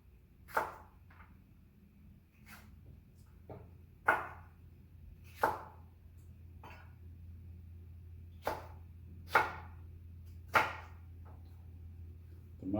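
A knife chops vegetables into rings on a cutting board for Cajun chicken pasta: about eight sharp, distinct cuts at an uneven pace, close by, with a low hum underneath.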